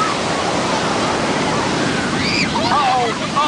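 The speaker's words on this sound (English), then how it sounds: "look at the waves, bud!" Ocean waves wash onto a beach in a loud, steady broadband roar with wind noise, while faint voices come through near the end.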